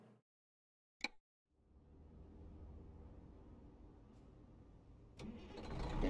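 A truck engine in American Truck Simulator cranks and catches after a click, then settles into a low, steady idle that swells slightly toward the end, with no talking over it.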